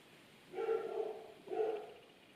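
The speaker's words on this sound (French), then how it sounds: "J'espère que vous entendez pas mon chien aboyer" Dog barking indoors, two muffled barks spaced about a second apart, faint and somewhat distant.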